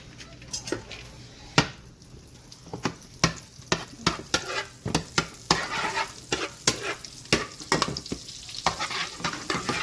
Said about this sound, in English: Make sure the butter is melted with the oil.